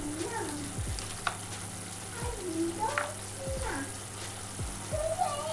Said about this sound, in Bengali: এবার মশলাগুলো দিয়ে ভালোভাবে কষিয়ে নেব